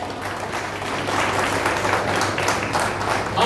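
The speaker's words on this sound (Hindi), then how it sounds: "एक बेर उनका साथ जोरदार ताली" A live audience at a stage event in Bengal gives a steady round of applause honouring a Border Security Force inspector general, the clapping dense and continuous throughout, with no voices over it.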